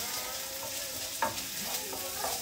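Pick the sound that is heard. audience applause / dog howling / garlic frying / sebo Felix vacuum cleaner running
garlic frying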